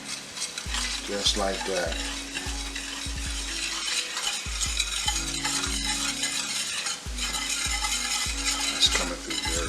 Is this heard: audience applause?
no